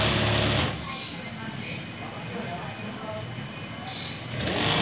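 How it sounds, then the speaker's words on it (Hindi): A sewing machine stitches the rounded double-stitched hem of a men's kameez, its fast steady whir running continuously, louder at the start and end with a quieter stretch in the middle, and a voice talking over it. "इसको आराम के साथ सिलाई लगानी है आपने, ताकि एक जैसी सिलाई लगे"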